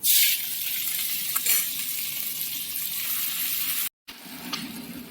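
Dried chilli, five-spice and ginger fry in hot oil, giving a loud continuous hiss with small crackles that cuts out abruptly for a moment before the sizzling resumes.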